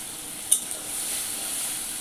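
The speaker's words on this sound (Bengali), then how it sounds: "এই আমি জল দিয়ে মাছের উপর সর্ষে বাটাটা ঢেলে দিচ্ছি।" Water and mustard paste are poured over mourala fish frying in a pan, giving a steady close sizzle with a couple of brief sharp clinks.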